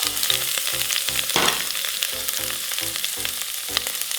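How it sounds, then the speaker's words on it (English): Onion sautéing with bay leaves in olive oil in an Instant Pot, a loud continuous sizzle broken by rhythmic scraping strokes of stirring, with no talking. "Now let's add our onion,"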